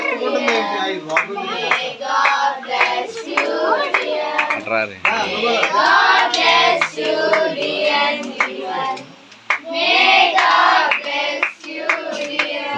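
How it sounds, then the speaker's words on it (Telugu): Hands clap at a child's eighth birthday party, with bursts of clapping running under constant lively chatter and children's voices throughout. "చప్పట్లు."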